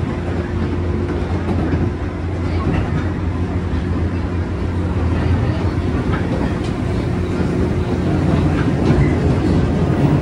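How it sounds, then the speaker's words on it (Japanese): A JR 201 series train runs on the Yamatoji Line through hilly country, recorded from inside as a steady loud rumble with a low motor hum and rhythmic clicking of the wheels on the rails. "201系がね、こんななんか山の中を走ってるっていうのもなかなか面白いですよね"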